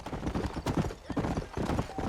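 Hooves of a galloping horse in the Red Dead Redemption video game pound in a fast, steady rhythm, loud and close, with faint game ambience behind.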